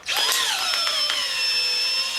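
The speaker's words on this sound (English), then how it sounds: "remove these screws" A power drill backs screws out of a turned wooden bottle stopper in the workshop, a loud steady high-pitched motor whine with brief pitch dips, heard alone.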